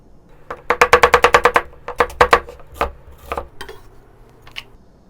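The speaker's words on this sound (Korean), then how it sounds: "양파는 채로 썰겠습니다" Knife julienning onion on a cutting board for Korean potato sujebi, a quick run of about ten crisp chops followed by a few scattered slower cuts, close and clear with no talking.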